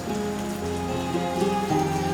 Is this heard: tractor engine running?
no